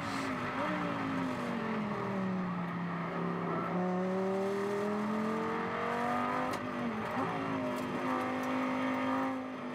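Onboard engine note of a Lamborghini Super Trofeo race car at Silverstone, a loud continuous drone rising and falling as it revs up through the gears with brief dips at each shift and no one talking.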